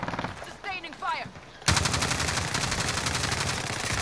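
Sustained automatic gunfire in a video game: after a brief moment of talk, a loud, rapid, unbroken stream of machine-gun shots bursts in and keeps firing steadily to the end.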